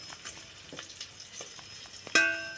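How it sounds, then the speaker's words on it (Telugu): Bay leaf, cloves and cardamom crackling in hot oil in a pan, a soft continuous sizzle with small pops, then a sharp metallic clank near the end; no talking. "దీంట్లో అయితే బగారాకు వేసిన ఇవో లవంగాలు ఏలకులు వేస్తున్నా చూడండి వేగుతున్నాయి"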